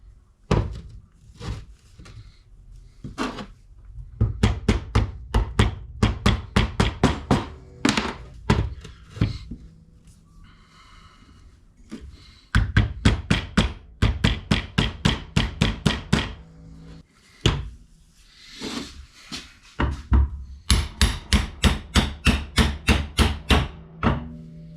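Metal bushings are hammered into the front suspension A-arm of a third-generation Toyota 4Runner, with bursts of rapid, loud, close blows separated by short pauses and single knocks.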